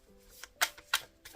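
Oracle cards shuffled nearby in a few quick, soft snaps and flicks spaced a fraction of a second apart, otherwise quiet.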